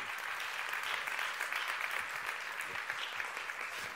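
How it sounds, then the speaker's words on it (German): Audience applause fills an award ceremony hall, a steady dense wash of many hands clapping at moderate distance, continuous throughout with no talk over it. "Ja, bitte, großen Applaus."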